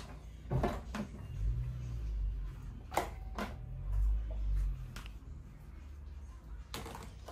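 Household drawer being opened while sorting makeup in an apartment, giving a few sharp knocks and wooden sliding thumps with short pauses between them, close and fairly quiet, with no one speaking.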